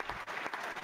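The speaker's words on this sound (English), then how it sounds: "So big round of applause for Journeyman Josh." An audience gives a brief burst of steady clapping applause for the host at an arcade Jeopardy game show, moderately distant and not very loud, with no one speaking.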